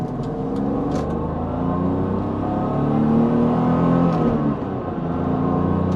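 A 1988 BMW E28 M5 engine revs as the car accelerates, a steady droning growl that climbs and swells in the middle, then eases slightly before pulling again, heard from inside the car with no talk.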